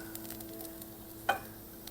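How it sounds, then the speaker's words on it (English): Vegetables sauté quietly in a pan, a faint soft sizzle with a few light stirring clicks and one sharper utensil knock. "saute your veggies"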